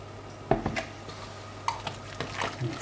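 Utensil clinks and scrapes in a pot as stock is stirred into a flour mixture for vegetable soup, a few distinct knocks spaced out with quieter stirring between, close and alone.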